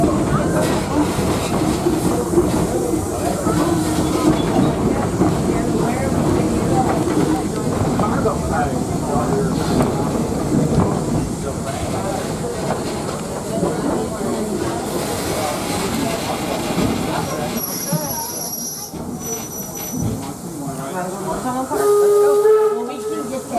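Torch Lake steam locomotive No. 3 at Greenfield Village runs with a steady rumble and hiss of rolling cars, recorded from aboard, and a sharp steam whistle near the end. An announcement voice talks over it.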